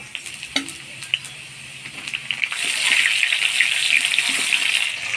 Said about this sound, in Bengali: ফোড়নের তেলে আলুগুলা নাড়াচাড়া করে নিলাম